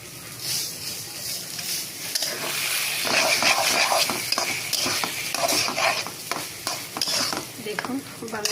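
Taro greens with onion, garlic, chili and butter are stir-fried in a pan, sizzling and hissing with repeated spatula scrapes and clinks growing busier, no talking.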